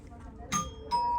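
A two-tone electronic cabin doorbell on the cruise ship Odyssey of the Seas chimes twice, a bright ding then a dong, close and clear over a faint low background hum.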